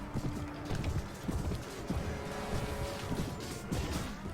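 Cavalry horses charging in a video game battle, a dense rumble of many galloping hooves with thuds and clatter, loud and continuous, accompanied by scattered crashes of combat.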